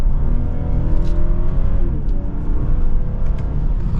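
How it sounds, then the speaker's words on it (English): Engine of a 2023 BMW 540i downshifting before a turn on the road, heard from inside the car as a close, deep rumble with revs rising and dropping between gears. "As we downshift before we come up to this turn"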